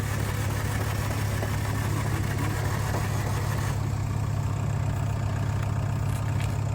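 An Opel Corsa with a Z20 engine, freshly swapped in after the old one blew, idles steadily at close range, a constant low rumbling drone with a slight knock, no voices over it.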